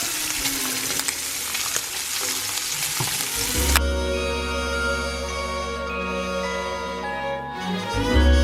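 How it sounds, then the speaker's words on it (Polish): Sizzling and crackling of bacon frying in a pan, steady and close, then a low humming tone takes over midway while the frying continues. "jeszcze smażę Adamowi bekon"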